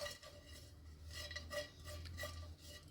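Dates and melon seeds are sautéed in a pan, heard as a quiet, steady stirring and scraping of a utensil with light metallic taps against the pan and no talking.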